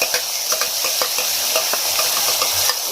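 Onions frying in hot oil in a home kitchen while a spoon stirs them, a steady loud sizzle punctuated by frequent light scrapes and clinks of the stirring; no speech.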